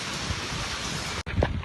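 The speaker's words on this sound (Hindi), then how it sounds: "बहुत तेज़ बारिश हो रही है" Heavy rain falls in Pasrur, a steady dense broadband hiss and patter that fills the scene without letup, briefly cut off near the end and then resuming with a few low knocks nearby.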